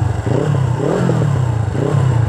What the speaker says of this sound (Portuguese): Olha o ronco dela.